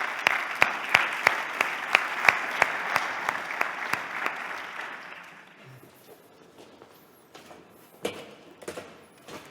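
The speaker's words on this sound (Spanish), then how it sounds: "Un aplauso, por favor." Applause at an artificial intelligence summit session, beginning with one person's sharp, evenly spaced claps over a thicker crowd, then fading into scattered, sparser claps and a few late knocks.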